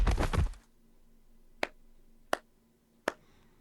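Three sharp, isolated claps or snaps ring out about a second apart in Arknights after a brief burst of noise, each one crisp and close against a quiet, humming background.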